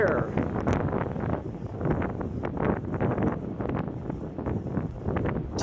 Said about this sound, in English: There's a strong wind right now.